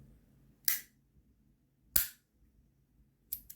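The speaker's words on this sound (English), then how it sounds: "some nice, slow, thick clicks." A fidget clicker toy gives three thick, sharp clicks spaced slowly about a second and a half apart, close and crisp against a quiet background, with the last arriving as a quick double click.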